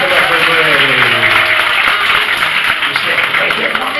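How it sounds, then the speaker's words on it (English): Audience applause at an Officer Phil show, a loud, dense and steady roar of clapping that holds for several seconds with no gaps. "Let's clap for them."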